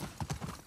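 Horse hooves in The Last of Us Part II, a few quick clip-clop strikes close by in a brief burst.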